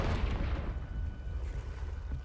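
Low rumbling blast of the Confringo explosive spell in Hogwarts Legacy, a dense boom whose roar decays and trails off over about two seconds.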